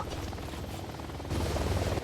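Helicopter in the Warface video game, a continuous low rotor thrum and engine drone that grows louder and fuller in the second half, with no speech over it.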